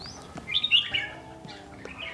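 A kept fighting songbird in Gia Lai chirps in a few short, bright bursts at close range, with quieter calls following over a low background hum.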